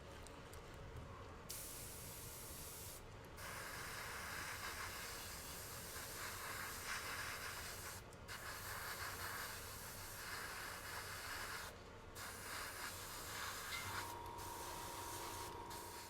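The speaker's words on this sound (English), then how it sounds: "so now we're spraying the interior green, which is this Italian Air Force Anticorrosiva." Airbrush hissing as it sprays Italian Air Force anticorrosion interior green paint onto cockpit parts of a Hasegawa 1/48 C.202 Folgore model kit, in several steady bursts separated by brief pauses, quiet and close.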